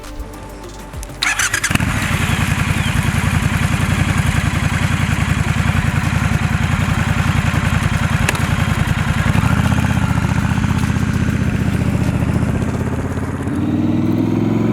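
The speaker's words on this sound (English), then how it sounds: "2019 Triumph Scrambler 1200 XC and officially my newest motorcycle" A 2019 Triumph Scrambler 1200 XC motorcycle starts up and settles into a loud, steady twin-cylinder rumble close by, with a brief shift in pitch near the end and no talking.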